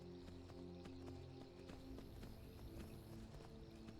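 A horse gallops in the video game Skyrim, with rapid, rhythmic hoofbeats clattering steadily over a low background hum, fairly close and continuous with no talk.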